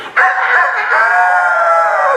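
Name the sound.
voice imitating rooster crow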